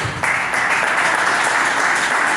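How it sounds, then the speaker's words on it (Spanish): Loud congregational applause at an evangelical church service starts abruptly and continues as a thick, steady clatter of many hands, with no voices over it. "denle un aplauso al Creador"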